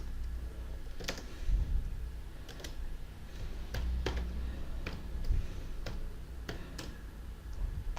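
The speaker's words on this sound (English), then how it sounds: "First we have to type post" Computer keyboard being typed on while writing PHP code, scattered crisp key clicks at an irregular pace, close and fairly quiet.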